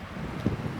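Wind blowing outdoors and buffeting the microphone, a steady low rumble with a couple of stronger gusts, alone with no voices.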